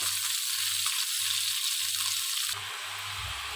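Raw papaya cooking in coconut oil in a pan, a steady, close hiss of frying with a faint pulsing underneath, the sizzle brightening slightly near the end.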